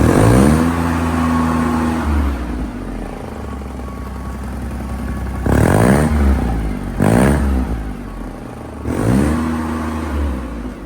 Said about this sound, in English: I can get on and rev it up quick